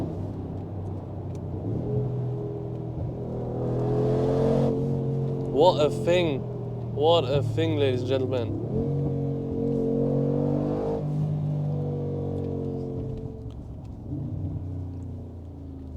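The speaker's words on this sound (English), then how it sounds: "What a sound! The pops and bangs." A 700-horsepower Brabus G-Class built on the G63 AMG rumbles deeply, then revs hard with sharp exhaust pops and bangs in short bursts near the middle before settling back to a loud idle, with someone talking over it.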